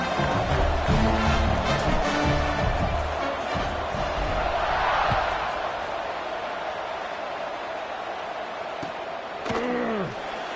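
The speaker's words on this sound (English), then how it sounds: "this crowd now ready to get behind them" Stadium crowd noise in the video game College Football 26: a loud, surging roar of fans swells and then settles into a steady background murmur, with a commentator talking over it and a short sharp whistle-like sweep near the end.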